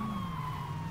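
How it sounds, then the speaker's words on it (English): A police siren on a car in the video game Saints Row 2 holds a steady, loud electronic wail throughout this brief moment, with no talk over it. "I got the sirens on, I can blame it on them."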